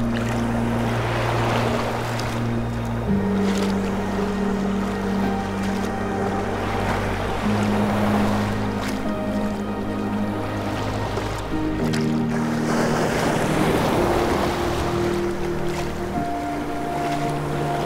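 Ocean waves wash around someone standing in the surf at Vanderbilt Beach in North Naples, Florida, on an early morning. The water churns steadily and fairly close, with surges swelling and fading under a constant low rumble.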